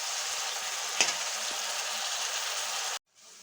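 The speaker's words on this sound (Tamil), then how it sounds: "வெங்காயம் போட்டு நல்லா வதக்குவோம்." Onions sauté in a hot pan with a steady, close sizzle and a brief clink of a utensil, before the frying noise cuts off abruptly near the end.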